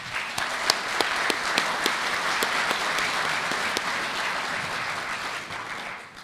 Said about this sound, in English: I'd like us all to give him a round of applause.